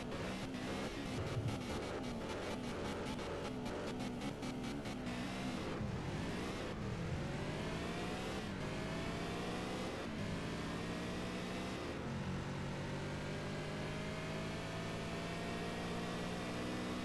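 Stock engine of a Dodge Viper in the Car Parking Multiplayer game, revving hard and climbing through repeated gear-change sweeps, with a steady loud synthetic roar throughout and no talking.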